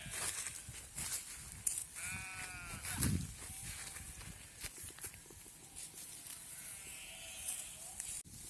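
Sheep bleating in a grazing field, several tremulous calls from a flock at moderate distance over an outdoor background with shuffling and faint movement, with no talk.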